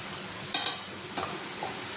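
Soft crackling of shakarpara dough pieces frying in oil in a kadai, with a few brief sharper clatters like a utensil tapping the pan.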